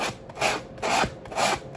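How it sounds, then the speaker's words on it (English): A wooden strop handle scraped by 80 grit sandpaper wrapped over a pool noodle, three quick rhythmic rasping strokes, close and fairly quiet, with no talk. "80 grit sandpaper, which is the material remover"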